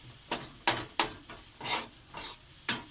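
Rice fries in oil in a pan with egg, onion and green chilli, sizzling while a utensil stirs it in short scraping strokes, about seven quick bursts close by.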